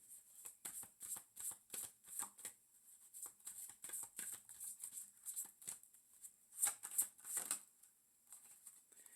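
Tarot cards being shuffled by hand close up, soft rhythmic riffles and flicks repeating steadily and quietly, with no talking.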